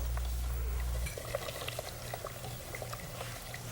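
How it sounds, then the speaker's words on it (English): Corn sugar being stirred into a pot of boiling water for home brewing, with a steady bubbling roil and soft scraping and clinking of the spoon against the pot, a low hum dropping away after the first second. "Just add it slowly and stir it in."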